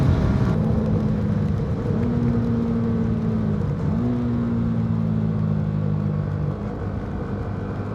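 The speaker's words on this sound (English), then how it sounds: "Hopefully you could hear that exhaust sound." A 2025 Yamaha R125 motorcycle fitted with a quickshifter drones loudly through its exhaust while being ridden, holding a steady buzzing tone that rises and shifts pitch as the revs change, with constant wind rush.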